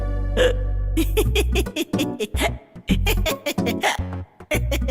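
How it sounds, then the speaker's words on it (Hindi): A man's sudden hiccup in a dubbed Hindi comedy film scene, a short abrupt vocal catch followed by exclamations and talking voices. "आपको हिचकी आ गई क्या?"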